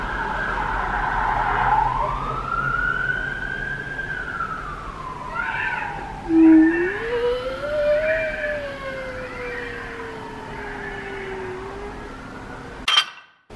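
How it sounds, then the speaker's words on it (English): A siren wails alone, its tone sweeping slowly up and down over several seconds and then rising again, loud and fairly near, before cutting off abruptly at the end. "jeez, and a siren."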